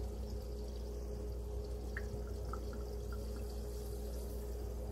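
Douglas fir tip syrup pours into a cup of fizzy water, giving a steady close hiss of carbonation with faint small drips and splashes, quiet and continuous with no talk.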